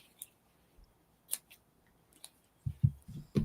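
Scissors snip through jute twine during a wood-slice snowman ornament craft. A few sparse, crisp cuts come first, then a quick cluster of louder snips near the end, close and with no talk.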